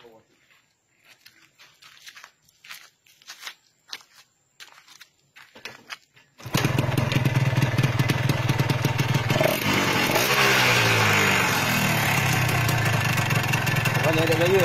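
A Yamaha RXZ two-stroke motorcycle, left standing since 2003, sits quiet apart from scattered clicks and rustles. At the midpoint the engine starts up and settles into a loud, close, continuous run with throttle variations.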